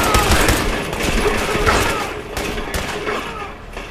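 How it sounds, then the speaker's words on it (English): Gunfire in the video game Fallout 4, loud and dense bursts of shots rattling continuously across the whole stretch, with a faint voice mixed underneath. "Here, I'm gonna shoot you."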